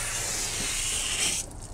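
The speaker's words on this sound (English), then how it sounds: "if I just give it a couple sprays of water under the fender well" A short, steady hiss of a spray bottle misting water under a car's fender well, close and continuous, cutting off abruptly near the end.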